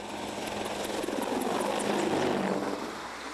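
Rotor and turbine roar of a Boeing AH-64 Apache Longbow military attack helicopter, a steady broadband whine and thrum that swells to a loud peak midway and eases slightly toward the end, with no voices.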